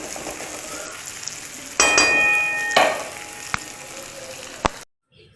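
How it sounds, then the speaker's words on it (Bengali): Vegetables fry in a pan over high heat, giving a loud crackling sizzle with bursts of stirring. A utensil clangs against the metal a few times before the sound stops abruptly. "চলো এটাকে একটু ভাজা ভাজা করে নিই বেশি করে ভেজে নিই"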